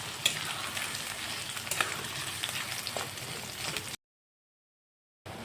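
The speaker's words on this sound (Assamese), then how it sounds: "এতিয়া দি আছোঁ ধুনীয়াকৈ কাটি থোৱা পিঁয়াজখিনি দি দিলোঁ আৰু এটা হেতা দি অলপ লৰাই দি আছোঁ" Chopped onions frying in hot oil and stirred with a spatula, a steady close sizzle with small scraping accents, cut by a brief silence near the end.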